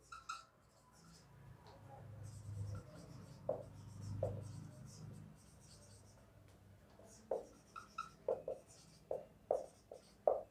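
Chalk or marker writing on a classroom board during a Class 11 maths lecture on sets: faint scratching strokes, then a quick run of short taps and squeaks near the end, with no talk.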